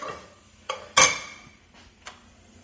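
A utensil knocks and scrapes against a pan while mushrooms and sun-dried tomatoes are stirred, giving a few sharp close clinks, the loudest near the middle, over a quiet low background with no talk.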